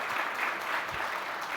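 Applause from an audience at a business forum, a brief continuous wash of clapping at moderate loudness with no voices over it.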